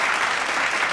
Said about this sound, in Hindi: जोरदार तालियों से स्वागत करें आरू का